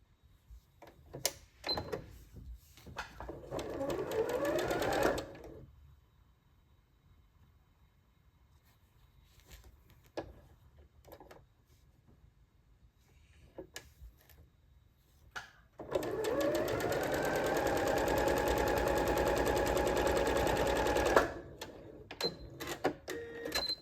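A sewing machine stitches a fabric hair piece for a doll, running in two bursts of rapid mechanical whirring, about four seconds and then five seconds long, separated by quiet handling noises and small clicks.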